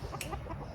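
A rooster clucks several short, close calls as he tries to get back in through a farm gate, quiet and brief, with no talking.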